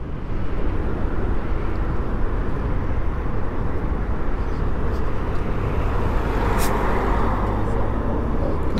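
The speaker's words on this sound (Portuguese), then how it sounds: "Caminhão de lixo." A garbage truck accelerates past a group of road cyclists in Juazeiro do Norte, Ceará, with a loud, steady, low engine rumble mixed with heavy wind and road noise that holds at the same level throughout.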